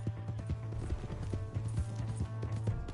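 Horse hooves clip-clop at a brisk, even gallop in Red Dead Redemption 2, loud and close over a steady low rumble.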